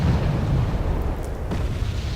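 Artillery shells in a tank battle video game hit in a steady, dense, low rumbling roar of distant explosions, loud and continuous with no voices.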